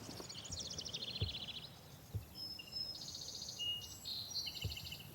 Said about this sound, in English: all I can hear is the sound of the birds.